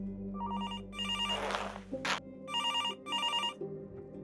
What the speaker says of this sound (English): What's that ringing noise?